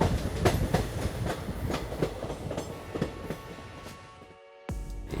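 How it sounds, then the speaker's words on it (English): A passenger train in Goa, India, runs along a railway line past large waterfalls. Its wheels give a steady, close clickety-clack and rumble that cuts out briefly near the end, then returns. "and the train runs right past them."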